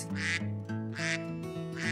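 A duck quacking: three loud, close, nasal quacks spaced evenly over about two seconds, with no talking.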